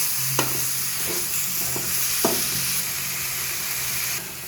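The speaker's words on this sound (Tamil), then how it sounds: "இதில் இப்போ சிக்கனோட சேர்த்து இது எல்லாத்தையும் நல்லா வதக்கிக்கிறோம்" Chicken and spices fry in a pan for a chicken gravy, making a constant close sizzle broken by several light scrapes and taps of a stirring spoon, with no one speaking.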